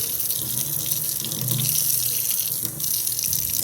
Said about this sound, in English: we're just trying hot water right here. We'll let that run for a few minutes.